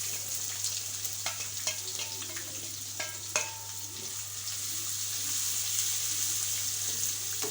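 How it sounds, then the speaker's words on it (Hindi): Finely chopped onion fries with garlic and cumin in a pan over a medium flame, a steady close sizzle broken by a few clinks and scrapes of stirring. "प्याज को भी हम लाइट सा गोल्डन कलर होने तक फ्राई करेंगे।"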